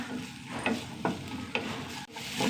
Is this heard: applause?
no